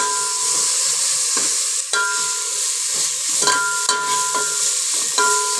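Tomatoes frying in a pan for red mutton sambar, a loud steady sizzle close by, punctuated every second or so by a spoon scraping and knocking against the pan, with no one speaking.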